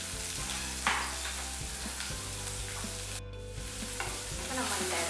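Onions hitting hot oil with mustard seeds and curry leaves, a bright continuous sizzle with a few scraping stirs and light clinks, close and steady, without any talk.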